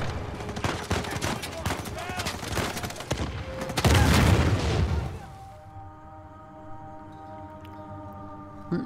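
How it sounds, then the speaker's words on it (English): Gunfire during a fight in the video game Uncharted 4, with rapid bursts of shots and a heavy boom, then a fade into quieter tonal background music. "I'm gonna need to quickly jump up and shoot this guy"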